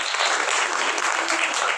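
Congregation at a Catholic Sunday Mass applauding in welcome, a steady, full wash of many hands clapping together at close range throughout.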